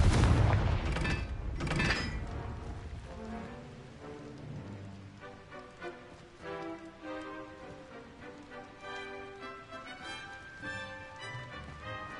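The Confringo blast spell fires in Hogwarts Legacy with a loud explosive boom at the start, then a crackling, rumbling tail mixed with game music and ambience.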